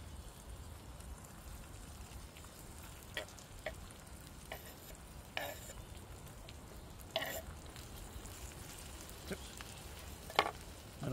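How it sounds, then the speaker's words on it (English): Turkey sizzles softly in a pan over a campfire in the woods, a quiet steady crackle with scattered sharp pops and spits. "There we go, it's on a sizzle."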